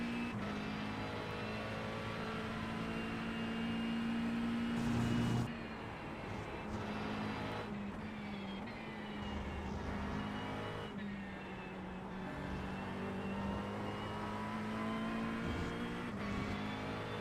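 A McLaren 720S GT3 race car circles Silverstone in a racing video game, its engine holding a steady, sustained drone with one brief rise in revs. It continues without pause the whole time, and no one speaks.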